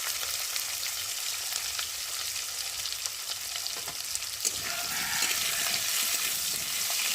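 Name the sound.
potatoes and green chillies frying in oil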